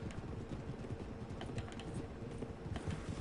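Rapid button mashing on a computer keyboard, a busy stream of quick clicking taps at moderate volume with no voices.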